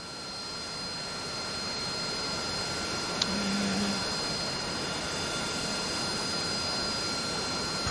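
AV-8B Harrier jet engine spooling up in the DCS World flight simulator, a steady, fairly faint turbine whine and roar holding level with a brief click partway through.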